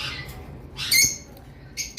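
Cockatiel or conure parrots from a breeding pair squawk in a few sharp, bright bursts, fairly close, with short quiet gaps between calls.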